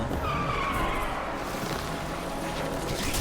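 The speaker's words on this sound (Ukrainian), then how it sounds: "Задрифтило тут дуже обережненько, я намагаюся дуже обережно робити, дрифтити" Drifting car in the Need for Speed Unbound racing game, tires skidding in a long continuous screech over a steady engine roar, loud and close throughout with no talk.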